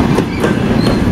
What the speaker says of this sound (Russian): Вот мы опять паровозики смотрим. У нас контейнера идут.